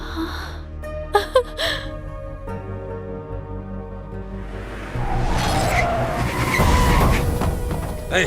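A car skids with a long tire squeal and roaring engine that builds over the second half, loud and close, following a quieter stretch of music-like tones and a couple of sharp hits, in an action movie scene.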